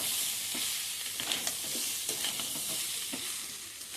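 Ground spices with coriander powder fry in oil in a pan, a close, steady sizzle broken by scraping stirs of a spatula at irregular intervals.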